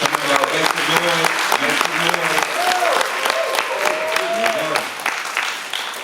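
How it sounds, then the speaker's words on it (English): An audience at a Kwanzaa celebration bursts into sustained applause, dense clapping with some cheering and a voice calling out over it, fading slightly at the end. "Clap it up for yourselves."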